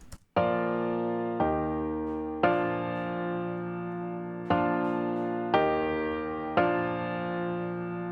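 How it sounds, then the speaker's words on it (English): A grand piano plays sustained chords under a stock Logic compressor, six struck chords spaced about a second apart, each ringing out evenly with a smooth, controlled decay; no voices. "I've added this grand piano which is playing the same chords as the guitars"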